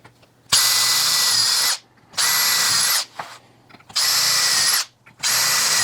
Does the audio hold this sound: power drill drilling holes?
yes